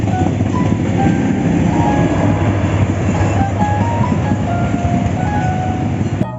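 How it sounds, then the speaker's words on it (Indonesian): A toy miniature Indonesian CC 203 locomotive runs along its track with a steady mechanical rumble, rhythmic rail clicks and a few faint high squeals, close and continuous. "Ini adalah miniatur kereta api Indonesia teman-teman."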